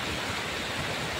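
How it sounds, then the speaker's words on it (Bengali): Flowing river current along the road to Pangong Lake in Ladakh, a steady broadband rush of water that fills the short moment evenly, close and constant with no voices over it. "জলের যে স্রোতটা দেখো কি সুন্দর লাগছে"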